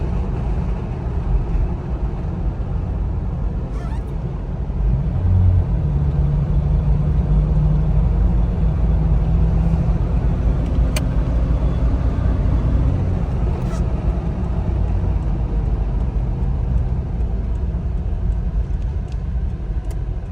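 A 1987 Jeep Cherokee XJ Wagoneer drives along in a steady, loud low engine and road drone heard from inside the cabin, rising slightly partway through, with no speech.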